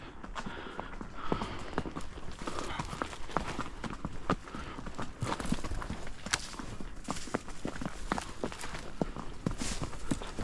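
Horse hooves clop steadily on a walk, a close, uneven series of thuds over faint background noise, with a voice heard only briefly.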